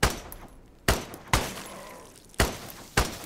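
Gunshots from the video game Dead Rising Deluxe Remaster, five sharp, loud blasts fired at irregular intervals with brief decaying tails in between, no talking.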